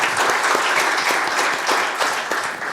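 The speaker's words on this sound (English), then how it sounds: "Let's give them a round of applause and welcome them to the stage." An audience applauding guests onto the stage at a prop trading panel event, a thick steady wash of clapping that stays loud and fades slightly toward the end.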